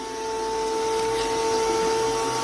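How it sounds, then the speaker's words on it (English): A vacuum cleaner runs steadily close by, a constant loud whining hum with a rushing airflow hiss that holds without a break. "It's gonna clog my vacuum."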